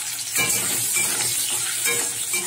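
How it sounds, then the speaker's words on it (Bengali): Potatoes frying in hot oil with cumin and bay leaf, a steady close sizzle with a soft scrape as they are stirred in the pan. "আলুটা নেড়ে চেড়ে একটু চাপা দিয়ে একটুখানি লাল করে ভেজে নেবো।"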